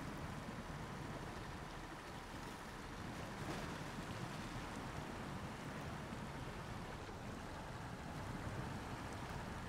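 Truck driving through river water in the SnowRunner video game, a faint, continuous sloshing wash with a low rumble and no talking.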